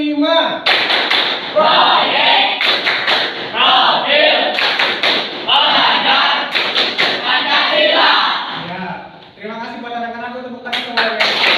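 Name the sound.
students doing the P5 rhythmic clap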